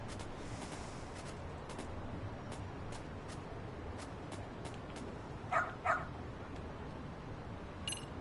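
A dog in the video game Lost Judgment gives two short barks near the middle, set against a steady background hum with faint clicks.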